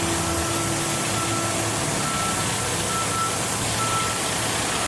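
A John Deere 310SK backhoe loader reverses off a trailer, its backup alarm beeping in a steady repeating tone over a constant loud engine rumble.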